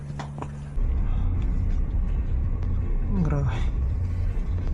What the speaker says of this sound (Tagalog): Buti malakas tong sasakyan.